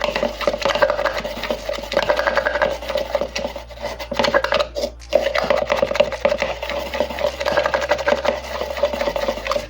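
Mica colourant being mixed by hand for avocado soap, a continuous close scraping and rubbing stir with rapid, irregular strokes and a brief pause midway.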